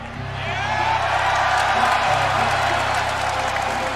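Large AEW wrestling arena crowd roaring in a steady, loud swell of cheers and jeers, with a low hum running underneath.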